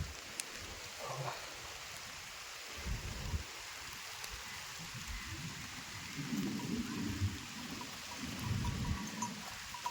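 Heavy unseasonal rain pours down outdoors in the Konkan during a sudden storm, a steady distant hiss with low rumbles swelling now and then, fairly faint overall.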